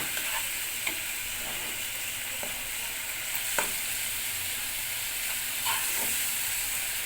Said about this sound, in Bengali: ভালো করে কষিয়ে নিব বন্ধুরা।